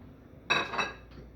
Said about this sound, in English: We're going to put our zucchini in the pan.